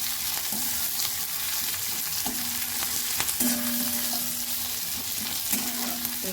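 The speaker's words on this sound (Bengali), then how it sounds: "দিয়ে দিলাম পেঁয়াজ। এটাকে আমি ভালো করে ভেজে নেব।" Chili and onion sizzling in hot oil in a pan, a steady crackling fry with occasional clinks of stirring, close and fairly quiet with no talk.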